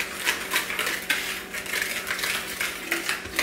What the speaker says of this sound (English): take your whisk, mix everything together really good